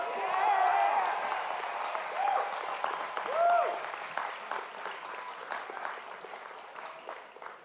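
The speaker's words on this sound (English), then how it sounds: "How about one more round of applause for the class" A large crowd at a high school graduation ceremony claps in sustained applause that stays strong, then gradually tapers, with some cheering voices and whoops rising over it.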